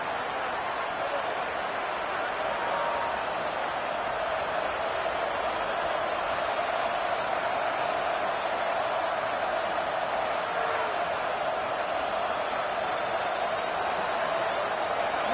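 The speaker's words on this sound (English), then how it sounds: "This crowd ready to make its presence known." A college football stadium crowd in a video game roars in a steady, dense wash of noise that holds evenly throughout, with no distinct cheers or claps standing out.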